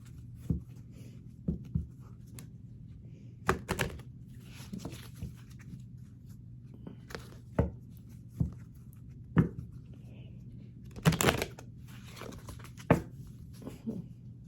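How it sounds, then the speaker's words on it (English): Tarot cards being shuffled by hand, a quiet, steady papery rustle with scattered soft riffles and taps spread over the whole stretch, close up and alone, with no talking. "I need the break of shuffling my cards"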